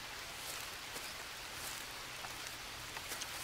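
Rain falls in the jungle survival game Green Hell, a steady soft hiss of drops pattering on leaves and ground, faint and even with small scattered taps, no voices.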